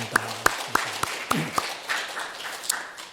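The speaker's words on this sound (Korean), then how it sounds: "우리 하나님께 영광의 박수를 다시 한번 드립니다." Congregation at a Korean Sunday church service giving a round of applause, heard as scattered individual claps spaced out rather than a dense ovation, moderately close, over a low sustained tone.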